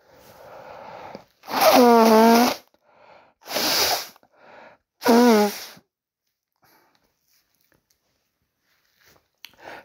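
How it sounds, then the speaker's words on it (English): A person blows their nose in three short, forceful honking bursts with brief pauses between them, fairly close and with no talking, followed by near silence. "Let me blow my nose real quick. It's getting stuffy again."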